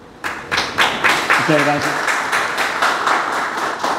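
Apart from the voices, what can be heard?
audience applause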